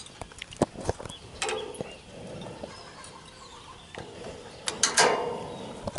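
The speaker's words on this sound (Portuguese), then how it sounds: "É tipo uma catraca mais leve, né? Ó, você destrava aqui. Destrava aqui." Ratchet on a tow truck winch being released, giving a run of close, sharp mechanical clicks and clunks with a brief rattling burst near the end, with no voices heard.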